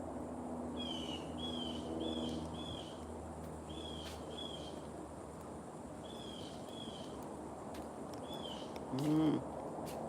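A bird calling in a park, short repeated high chirps in small clusters spaced every second or two, moderately distant over a steady outdoor hiss, with a brief low thump or voice near the end.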